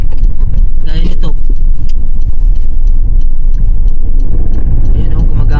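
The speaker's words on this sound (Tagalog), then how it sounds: "Ito yung ayaw ko na itong sasakyan na itong Mercedes-Benz na to. Gumagapang siya." A Mercedes-Benz car crawls slowly along a road, and its low engine rumble stays loud and continuous throughout, under someone talking.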